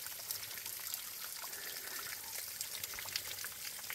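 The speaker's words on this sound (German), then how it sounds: "plätschert das hier runter." Water from a mountain stream in the Thuringian hills splashes and trickles down a slope, a steady, fairly faint hiss of running water with no voices.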